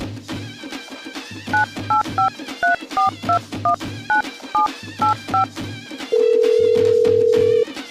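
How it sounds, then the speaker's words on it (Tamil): A telephone is dialed with a quick series of close, clear keypad tones, followed by a long steady tone on the line. "மகேஷுக்கு காலிலேருந்து ஃபோன் போடுறேன், எடுக்க மாட்டான"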